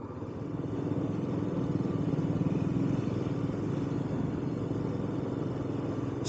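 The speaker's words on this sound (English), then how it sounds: "Some other bikes coming down the other way." Motorcycles pass on a rural green lane in Wiltshire, heard as a steady, moderately loud engine drone that swells slightly and holds across the whole stretch, with no talking.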